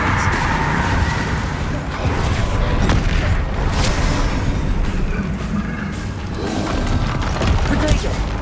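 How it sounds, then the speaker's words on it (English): A disarming Expelliarmus spell from Hogwarts Legacy lands within a loud, steady wash of game combat noise, with dull booming impacts and rumbling texture throughout. "Expelliarmus."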